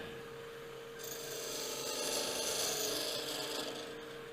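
Forstner bit boring into a turned wooden Christmas ornament spinning on a wood lathe, a steady rasping, scraping cut that starts a moment in and grows slightly louder, continuous and close with no talking.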